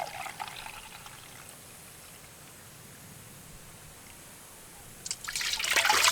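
Boiled corn cob juice is strained and poured, with a short liquid splash at the start, a quiet stretch, then a louder, steady pouring trickle near the end.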